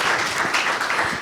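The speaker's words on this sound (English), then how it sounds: "A huge round of applause for our state president." An audience at a state president's talk breaks into loud, sustained applause, a dense wash of many hands clapping together throughout.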